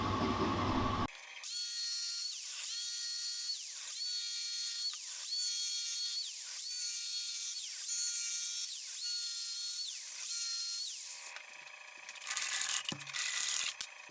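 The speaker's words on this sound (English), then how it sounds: "take the jigsaw, cut those lines to complete the grooves" Jigsaw cutting grooves in clamped wood, a high, steady whine interrupted by repeated short dips as the blade works along the lines, close and continuous for about ten seconds before stopping.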